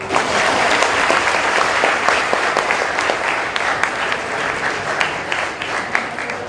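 An indoor audience at the Udyog Prerna event at Sathey College in Mumbai claps in a loud, dense round of applause that carries on steadily and eases slightly toward the end.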